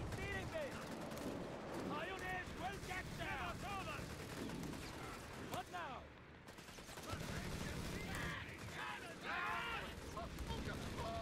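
Gunfire and explosive bursts from Company of Heroes 3 battle play out in dense, overlapping volleys across most of the span, with a brief lull midway; voices speak over the din.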